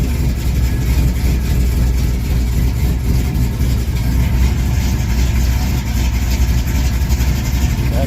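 A 1979 Camaro Z28 with a newly installed 4-speed idles after start-up, giving a loud, steady low rumble that stays even and close throughout.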